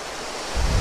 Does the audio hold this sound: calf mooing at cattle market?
no